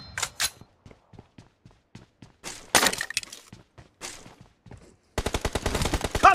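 Video game gunfire in a team deathmatch: sharp scattered single shots, then a dense rapid automatic burst near the end, loud and close with sparse gaps between.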